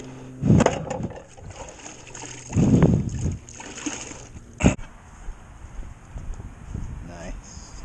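A dry drywall sponge is plunged into a bucket of water during ceiling crack repair, giving two or three loud sloshing splashes separated by quieter handling noise.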